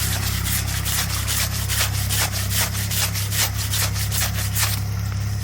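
Steady rhythmic rubbing and scraping of magur catfish skin being scrubbed clean, about a dozen repeated strokes, close and fairly loud over a low background hum.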